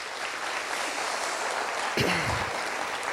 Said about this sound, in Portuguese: Vai aplaudir a turma para eu